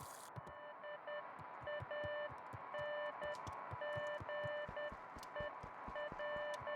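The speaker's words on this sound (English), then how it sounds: "Somebody's trying to communicate with Morse code." Morse code beeping in the video game Beacon Pines: regular short and long electronic tones in a steady pattern over a ticking rhythmic background, moderately loud and continuous.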